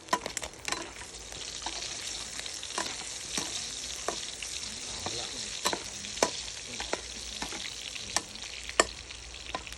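Pork belly stir-fries in a hot pan, giving a steady, close sizzle broken by repeated scraping strokes of stirring.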